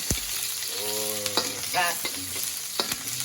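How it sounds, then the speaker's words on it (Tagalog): Onion and garlic frying in hot oil, a steady close sizzle with scraping stirs and sharp utensil knocks against the pan at intervals. "Pag mainit ang mantika, ay nilagay natin ating buyas at bawang."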